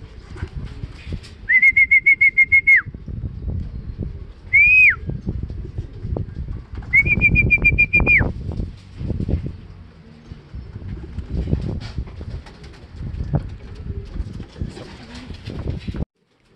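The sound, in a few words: racing pigeons arriving in a derby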